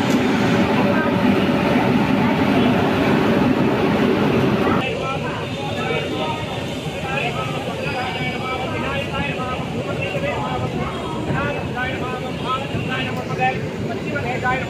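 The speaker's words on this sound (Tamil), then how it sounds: "22605 புருலியா டு திருநெல்வேலி எக்ஸ்பிரஸ் செம ஒரு டெக்கரேஷனோட பெரம்பூர் என்ட்ரு ஆயிருக்கு." Decorated Purulia–Tirunelveli Express train number 22605 rolls into Perambur station with a loud, continuous rumble and clatter of wheels on rail that steps down slightly partway through, while a voice speaks over the noise.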